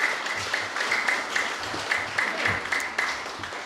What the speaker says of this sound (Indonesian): kita berikan tepuk tangan bersama-sama untuk para wisudawan yang hari ini diwisuda